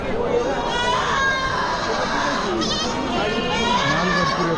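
Goats and sheep bleat over and over at a crowded livestock market, many animals calling close by at once, with people talking amid the steady din.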